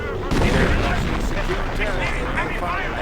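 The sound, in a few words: artillery bombarding base in video game Company of Heroes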